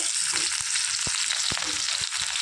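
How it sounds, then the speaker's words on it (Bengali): Sliced onion tossed into hot oil tempered with radhuni, nigella, dried red chilli and bay leaf, giving a loud, steady, close sizzle with a few soft knocks of a spatula. "তো এখন দিয়ে দিচ্ছি হচ্ছে পেঁয়াজ"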